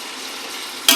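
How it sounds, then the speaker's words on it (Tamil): Tomatoes sautéing with salt in a pan for country-chicken biryani give a steady soft sizzle, with a sharp, louder burst of frying or stirring near the very end. "தக்காளி வதங்கிறதுக்கு உப்பு போட்டுக்கலாம்."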